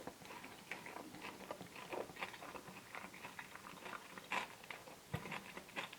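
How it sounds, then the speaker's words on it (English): Close, quiet crunching and chewing of a Burger King Teriyaki burger with onion and iceberg lettuce, irregular bites and crisp crackles repeating over several seconds. "You can hear the crunch of the onion and the iceberg lettuce."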